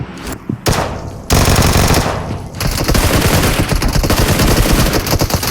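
Sustained automatic gunfire in PUBG Mobile, loud and close, with a short burst followed by a long continuous rattle of rapid shots.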